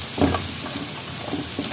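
Onions frying in a little oil as the base for kofta, a steady broadband sizzle with a few louder stirring scrapes near the start and end, close by with no talk.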